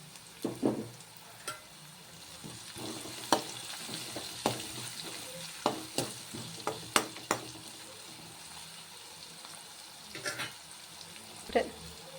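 Onions frying with salt in a pan, a soft steady sizzle broken by repeated close scraping stirs, no voices.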